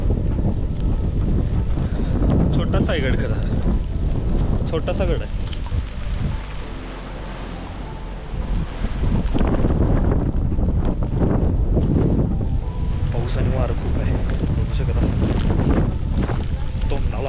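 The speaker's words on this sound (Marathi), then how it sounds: "भयानक खुळ्यासारखं वार आहे इथं काय लाडच नाही वाऱ्याचा पाऊस पण आहे" Strong wind and heavy rain lash Dategad, a small hill fort near Patan. Loud, continuous gusts buffet the microphone with roaring surges while people talk over the storm.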